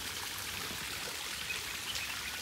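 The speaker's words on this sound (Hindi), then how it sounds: "यहाँ से पानी आ रहा स्लो स्लो" Slow trickle of water running down a stream below the Antharaganga waterfall near Hyderabad, a steady soft hiss of flowing water with no voices.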